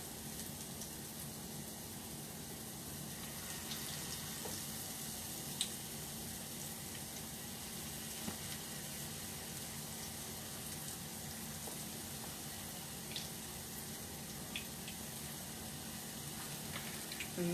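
Pinto bean patties fry in a pan with a steady, soft sizzle and crackle, faint and continuous with a few small pops.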